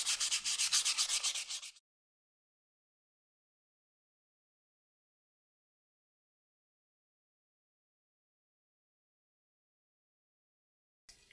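Wet sanding a brake caliper from a Peugeot 205 with waterproof sandpaper: a brief, close burst of rhythmic rasping strokes, then near silence.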